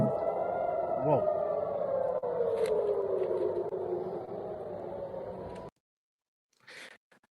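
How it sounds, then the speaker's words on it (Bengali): A loud, sustained air-raid siren wails in an Israeli city during an Iranian missile attack, its pitch slowly sliding downward before cutting off, followed by silence and a brief burst of noise. "ইসরায়েলের বিভিন্ন শহরে আবার সেই চিরচেনা সাইরেনের শব্দ পাচ্ছে"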